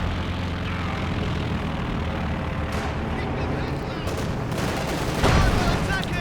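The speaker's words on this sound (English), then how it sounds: "The Luftwaffe quickly sends a Stuka in to provide air reconnaissance" Company of Heroes 2 battle: a German Stuka dive bomber overhead amid artillery and machine-gun fire, a constant roar of gunfire and engine noise swelling into a louder burst near the end.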